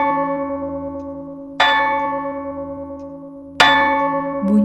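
A clock chimes twice in a quiet house during a horror story, each strike a loud bell-like ring with a long humming decay, spaced about two seconds apart, with no talk.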